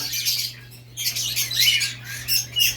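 Pet birds in a shared cage give repeated sharp chirps and squawks in bursts, fairly close, with a steady low hum running underneath.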